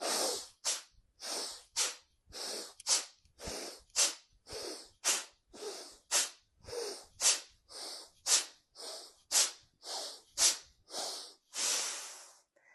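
Forceful nasal breaths during a morning breathing-gymnastics exercise repeat in a fast, steady rhythm, about twenty sharp close inhale-exhale bursts, ending in one longer sustained breath. No talking over them.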